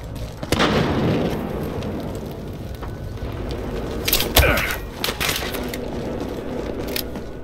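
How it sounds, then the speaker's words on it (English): An incendiary grenade goes off in the police-and-criminals shooter Battlefield Hardline, a burst of noise amid constant gunfire and chaotic combat, with sharp cracks and a loud blast near the middle. "Incendiary out!"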